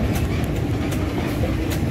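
A KRL commuter train rumbles past close by at an Indonesian station, a loud, continuous roar with faint rhythmic clatter from the wheels.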